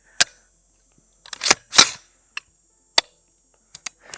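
Sharp trigger reset clicks on a PSA Guardsman rifle, a series of loud, crisp isolated snaps spaced irregularly with near-silence between them.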